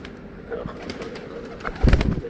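Low, soft cooing of a white pigeon close by, swelling louder near the end, with faint rustling in the background and no speech.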